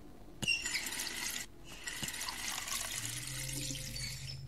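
A kitchen sink tap runs in The Wolf Among Us video game, its water gushing in two bursts with a brief break between them, then flowing steadily at close range with no talking.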